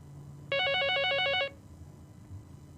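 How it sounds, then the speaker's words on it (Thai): An incoming call rings on a telephone, one loud, bright electronic ring pattern of rapid repeated pulses lasting about a second, heard alone against a quiet room background. "โทรศัพท์เข้ามาแล้ว"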